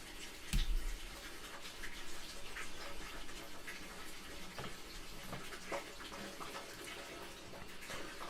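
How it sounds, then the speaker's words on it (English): A heater's condenser empties water, producing a continuous splashing trickle like a running tap into a basin, with a sharp knock early on and scattered drips and clicks throughout, faint and steady with no voices. "That's the sound of the condenser emptying water from the heater."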